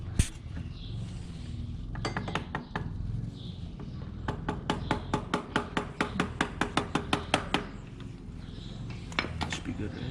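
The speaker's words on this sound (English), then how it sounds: "Just tap it in with a hammer now." Hammer tapping a part into place on a Yamaha Banshee 350 chain sprocket, a long run of sharp metallic taps in steady rhythm, close and crisp, with people talking quietly in the background.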